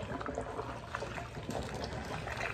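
Dirty wash water draining out of a tub after washing a lamellar armour piece, a steady close gurgling trickle and pour that runs continuously without voices.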